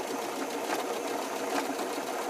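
A sewing machine stitches a zigzag edge finish on fabric, a quiet, even, rapid whirring run of stitches heard close up with no talking.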